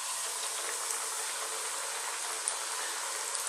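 Fish frying in hot oil, a steady dense sizzle that holds evenly throughout, fairly loud and close, with no talk over it.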